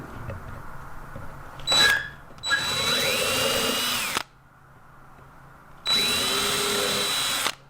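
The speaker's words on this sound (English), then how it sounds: "We'll pre-drill this one too." Power drill pre-drilling a hole in pallet wood for a rustic chick feeder: two loud, steady bursts of drilling, each lasting a couple of seconds, with a short spin-up just before the first and a pause between them.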